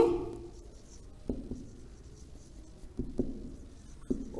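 Chalk or marker writing on a classroom board during a lesson, a few soft scratchy strokes in short bursts with quiet pauses between, close and faint.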